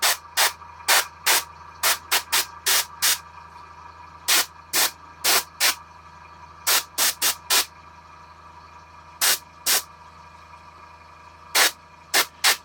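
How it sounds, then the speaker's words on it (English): An airbrush sprays paint onto a miniature figure in many short, sharp hissing spurts, irregularly spaced bursts of close, crisp spray separated by near silence. "I'm spraying in very small spurts"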